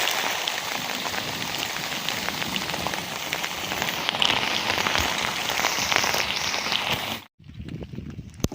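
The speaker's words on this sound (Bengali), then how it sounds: "মানে এত বৃষ্টি হচ্ছে" Heavy rain from Cyclone Remal pours down hard and steadily on open surfaces outdoors, a dense continuous hiss for several seconds before a brief cut, after which lighter drops continue.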